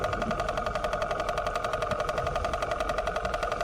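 A steady boat engine drone with a fast rhythmic pulsing, heard underwater during a night spearfishing dive, muffled and continuous throughout.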